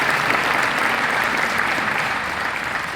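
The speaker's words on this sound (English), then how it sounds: "let's give our sponsors a big round of applause" Dense, loud applause from a conference audience greeting event sponsors, sustained evenly throughout without pause.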